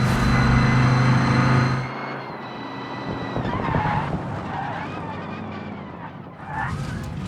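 A car in a racing video game drives under a loud, continuous engine drone. The pitch holds high at first, then drops and wavers through the corner, with tyre noise mixed in.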